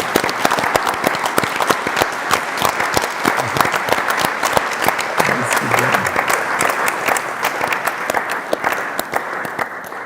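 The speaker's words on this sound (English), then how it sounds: "You may clap your hands now." An audience claps steadily at a museum handover ceremony for the Sycamore quantum processor at the Deutsches Museum. The applause is dense and sustained, with sharp individual claps, a little crowd murmur and no speech.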